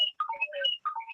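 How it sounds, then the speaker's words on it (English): A cell phone rings during an online meeting of a district lines advisory commission, its melodic ringtone playing a quick run of electronic notes that is clear and close, with no talking over it. "Commissioner Chow, turn off your cell phone."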